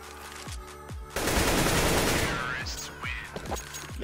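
AK rifle fire in the game CS:GO rings out close and loud, single shots followed by a sustained rapid burst, then more scattered shots with faint background game sounds.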